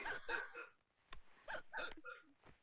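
Hiccups in a movie scene, a few short sharp hiccup bursts spaced irregularly, faint and mixed with quiet voices.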